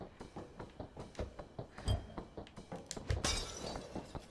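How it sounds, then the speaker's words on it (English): Light bulbs shatter repeatedly in the video game Night in the Woods, a run of sharp glass-breaking crashes and clinks at an uneven rhythm, with a bigger burst of shattering glass near the end. "So we're just smashing light bulbs and stuff."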